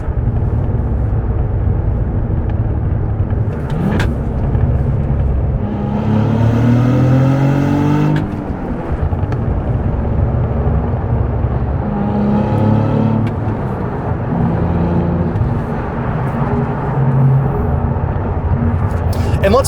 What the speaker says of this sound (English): when you floor it and then you let off the throttle at high RPMs, you can hear it like trying to make a bunch of loud gurgles and pops